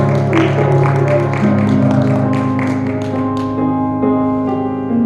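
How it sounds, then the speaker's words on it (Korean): A congregation claps after a Sunday church service. The scattered claps sound over sustained harmonic music and fade out toward the end. "하나님께 박수로 감사합니다."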